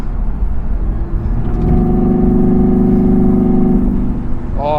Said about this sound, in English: that's the sound of the V10 engine